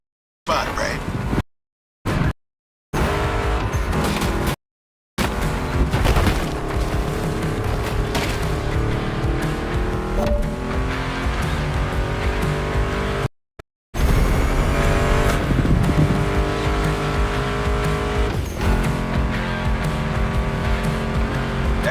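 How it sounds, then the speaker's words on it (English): Car engines roar in The Crew 2 street racing, a loud continuous revving drone with shifting pitch and tire squeal, mixed with background music and broken by brief silent gaps. "Meshes well with the sound of the engines."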